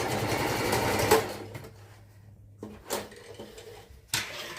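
Sewing machine stitching a hem on baggy pants, running in a fast continuous whir for about a second, then stopping, followed by a few soft handling clicks and fabric shuffles up close.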